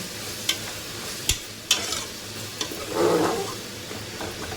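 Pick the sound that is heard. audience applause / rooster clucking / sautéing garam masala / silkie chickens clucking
sautéing garam masala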